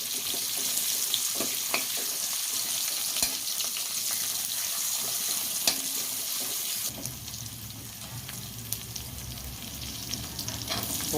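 Finely chopped garlic frying in a pan with fennel powder, for a fish dish, gives a steady close sizzle with occasional crackles. It grows denser and lower-toned partway through, with no talking.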